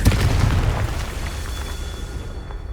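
A Confringo fire spell explodes in the Hogwarts Legacy video game with a loud, deep boom at the start that rumbles and fades into a long, low decay.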